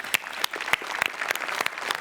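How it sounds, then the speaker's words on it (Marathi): Applause for performers in a Marathi comedy stage show, a studio audience clapping in a continuous burst with sharp individual claps standing out, close and fairly loud. "जोरदार टाळ्या यांच्यासाठी"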